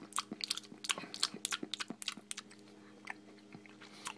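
Close, quiet chewing of Jelly Belly jelly beans, a rapid run of small sticky, crunchy bites and mouth clicks in an irregular rhythm, with no talk.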